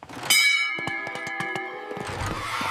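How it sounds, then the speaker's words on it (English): A school lunch bell rings loudly and close by, a single sustained metallic ringing with rapid repeated strikes lasting a couple of seconds, heard alone with no voices. "At 12 o'clock, the lunch bell rings."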